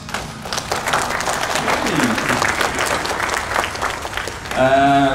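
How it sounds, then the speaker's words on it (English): A burst of applause and clapping from a crowd at a stage fighting workshop at an anime convention, steady and fairly loud for several seconds, ending with a brief musical tone. "Round of applause."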